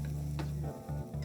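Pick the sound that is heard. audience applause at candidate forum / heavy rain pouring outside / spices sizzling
spices sizzling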